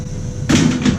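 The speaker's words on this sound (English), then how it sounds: "Put the door back." A metal cabinet door on a Weil McLain boiler is fitted back into place, a short scraping clatter and rattle close by over a steady machine hum.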